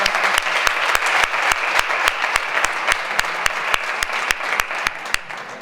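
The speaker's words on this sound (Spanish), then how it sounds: "Un aplauso para él" An audience at a Ciudadanos municipal election candidacy presentation applauds a candidate with steady, rhythmic clapping in unison, sharp regular claps over a crowd wash, loud and sustained throughout.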